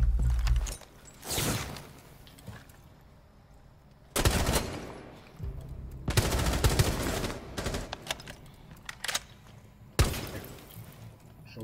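Gunfire in the Rainbow Six Siege video game: several loud, close bursts of rapid shots separated by quieter gaps, with sharp cracks and some breaking clatter between volleys.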